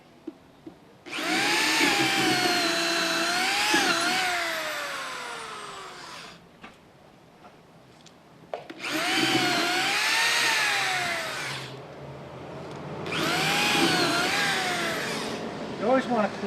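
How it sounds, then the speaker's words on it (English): An electric drill runs in three sustained bursts as it bores holes, its motor whine rising and falling with load, close and loud, with short pauses between runs. "Okay, so we can now drill these."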